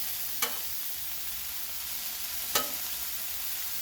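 A center-cut pork chop sizzles steadily on a Blackstone griddle, a constant hiss with two sharp scraping clicks from a spatula against the steel.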